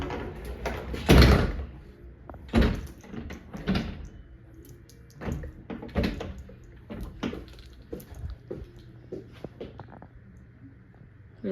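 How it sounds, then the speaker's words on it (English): Hotel room doors in a bathroom area at a moderate resort being pushed shut, several close knocks and thuds at irregular intervals, with softer handling clatter between. "So these doors shut here."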